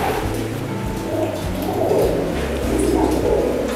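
Pigeons in a breeding room coo continuously, with several birds' soft overlapping throaty calls close by over a steady background murmur.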